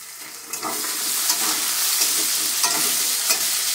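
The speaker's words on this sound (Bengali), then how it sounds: "লঙ্কাটা দিয়ে দিলাম।" Green chilli frying in hot oil alongside bay leaf in a Bengali paneer kaliya, a close, continuous sizzle with a spatula scraping and stirring in soft rhythmic strokes.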